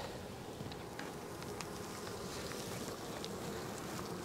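Honey bees buzzing around an open hive while being fed a fondant patty, a dense steady droning hum with a few individual bees zipping close by, continuous and fairly faint.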